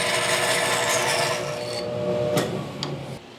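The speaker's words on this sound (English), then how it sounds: "We're just gonna put it on the bandsaw, let the blade come up to speed, and we're just gonna push it in until it stops." A bandsaw cutting a wooden piece, a loud, steady rasping hiss of blade through wood that fades near the end as the cut finishes, close up, with no voices.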